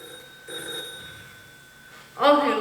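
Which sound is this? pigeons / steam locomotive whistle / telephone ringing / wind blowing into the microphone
telephone ringing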